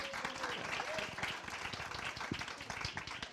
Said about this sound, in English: we can applaud our panel